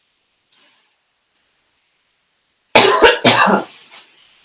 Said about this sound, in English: with the beauty of the spring comes coughing